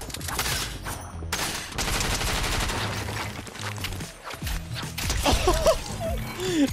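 Rapid bursts of gunshots from a Fortnite match crackle in quick succession, dense and close, broken by short gaps, with faint speech and game effects mixed in.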